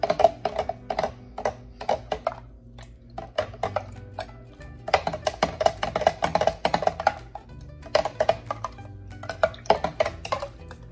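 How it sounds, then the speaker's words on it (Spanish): A spoon stirs a mamey fruit drink made with evaporated milk in a jug, giving repeated rhythmic clinks and scrapes against the container, close and fairly loud, with short pauses between bursts and no voices. "Aquí lo vamos a revolver."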